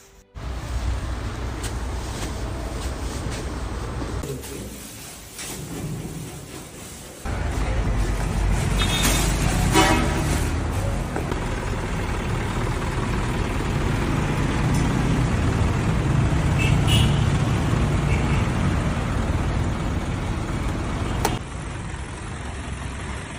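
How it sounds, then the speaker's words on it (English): Heavy trucks rumble and idle as they are loaded for an aid shipment, a continuous low engine drone with a brief dip in level midway, steady and fairly loud throughout, with no voices. "today, 14th of January, we are loading the trucks for the 4th shipment"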